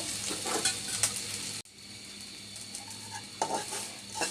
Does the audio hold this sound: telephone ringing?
no